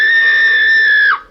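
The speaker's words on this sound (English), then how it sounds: "The belle let out a horrifying scream as she appears to melt helplessly." A high, sustained tonal scream of a ghost woman in the computer adventure game Uninvited, one loud unbroken wail of just over a second that slides downward and cuts off at the end.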